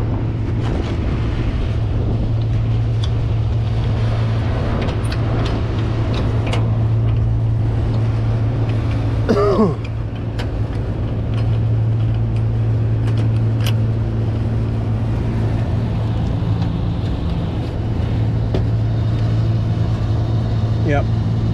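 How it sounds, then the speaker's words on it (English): The blower motor of a 12.5-ton commercial HVAC unit runs as a loud, steady, low drone with wind buffeting the microphone throughout. "I heard the blower motor come on."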